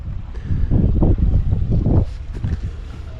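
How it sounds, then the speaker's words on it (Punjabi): Tractors working a field during wheat and potato sowing, a loud, rumbling low engine drone that swells and fades in pulses, steady throughout with a rough, windy quality. "ਚਾਰੇ ਪਾਸੇ ਟਰੈਕਟਰ ਟਰੈਕਟਰ ਚੱਲਦੇ ਆ"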